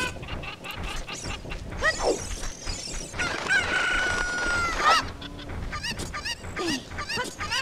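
Cucco chickens in a Legend of Zelda game set in Kakariko Village cluck and squawk, with a long drawn-out crowing call in the middle and a busy stream of clucks around it.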